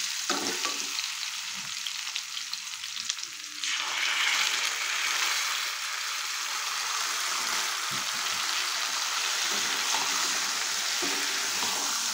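Taro pieces fried reddish in a pan, then ground masala paste added: a quieter sizzle swells abruptly into a louder, denser frying hiss that continues steadily up close with occasional stirring scrapes.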